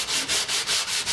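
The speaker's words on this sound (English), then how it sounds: "when you sand, you always go with the grain" Sandpaper is rubbed by hand along the grain of a wooden display panel, six close, even back-and-forth rasping strokes in a steady rhythm.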